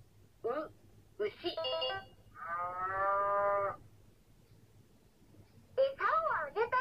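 A Shimajiro hiragana toy machine plays a recorded cow's moo, one sustained electronic lowing of about a second and a half. Short spoken voice prompts come before and after it.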